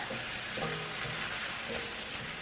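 Soft scraping and stirring over a constant bubbling sizzle of simmering chicken adobo, with a couple of brief clinks from a utensil against the pot.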